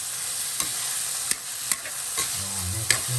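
Corned beef and hotdog are stirred in a pot for Filipino sopas, giving a steady background sizzle with a few sharp spoon scrapes and clinks against the pot spaced through the clip.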